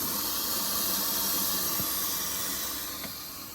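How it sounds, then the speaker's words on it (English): A water softener in backwash mode gives off a continuous, even hiss of rushing water that holds steady and fades slightly toward the end. "It's gonna start backwashing."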